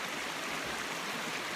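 Steady, even rush of a mountain creek on the Bear Creek Trail near the Gennett Poplar, a constant broadband wash of flowing water with no pauses, moderately quiet and without voices.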